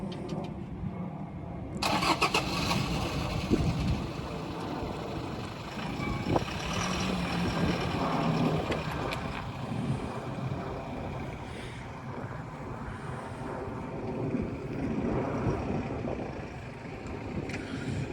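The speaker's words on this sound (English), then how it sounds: "what we're going to do next is to drive forward, and then we're going to reverse the vehicle alongside the trailer" A car engine running steadily as the vehicle drives forward and then reverses alongside a trailer, a continuous close rumble outdoors with no talk.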